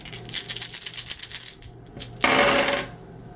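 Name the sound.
rolling six board game dice on a table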